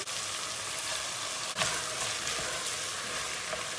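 Minced meat frying with tomato paste and tomato pepper paste in a pan gives a steady, close sizzle that runs unbroken, with one brief stir scrape near the middle and no voices.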